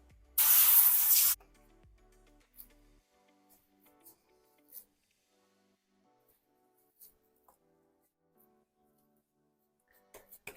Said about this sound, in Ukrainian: І зараз бризну оливковою олійкою.